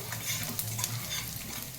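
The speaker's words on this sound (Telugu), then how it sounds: "పోపులు వేగిపోయాయి ఫ్రెండ్స్." A tempering of spices, curry leaves and chillies fries in oil in a pan, a soft steady sizzle with faint stirring scrapes, fairly quiet and unbroken.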